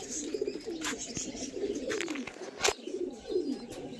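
Domestic Ice-breed fancy pigeons cooing at home, several warbling, rolling coos repeating close by, moderately quiet, with a few sharp knocks and clicks between them.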